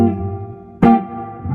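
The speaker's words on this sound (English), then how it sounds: "generally I use the 60 sound, which would be more like a spring reverb" A guitar through a pedal set to a 1960s-style spring reverb rings out, with a sustained decaying chord, then a fresh strum about halfway through that blooms into a splashy reverb tail.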